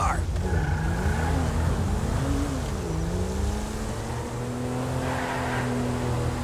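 Car driving in the video game GTA V, with a continuous engine drone whose pitch rises and falls as it revs, plus occasional tire squeal, heard up close under game audio.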